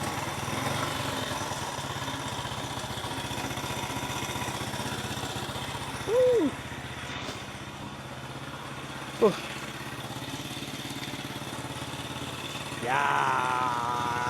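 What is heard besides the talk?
Honda EX5 motorcycle engine running after being started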